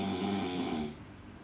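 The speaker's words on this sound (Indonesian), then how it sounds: "Tuh, ayah ngorok tuh." A father snores while asleep: a steady, fairly loud rasping drone that weakens and fades near the end of the short stretch, with no talking.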